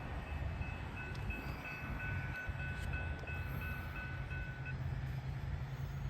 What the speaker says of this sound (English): We got our next train coming here.